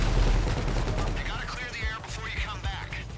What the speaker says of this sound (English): so that he can basically shoot the guy